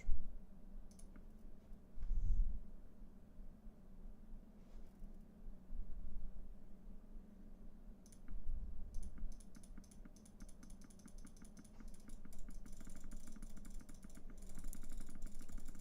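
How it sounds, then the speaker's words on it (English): A computer mouse is jitter-clicked rapidly during a PC game, giving a dense stream of fast, sharp clicks that grows busier toward the end over a low hum of game sound. "Jitter clicking for the win."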